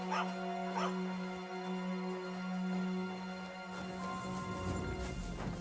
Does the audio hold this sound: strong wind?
no